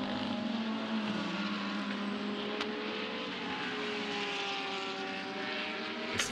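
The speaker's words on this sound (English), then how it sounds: "And the Ferrari climbing uphill now up towards nets." A Ferrari GT race car climbs uphill at Fuji during Blancpain GT Series Asia qualifying, its engine note rising and falling steadily at middle distance, continuous and fairly loud for the whole stretch.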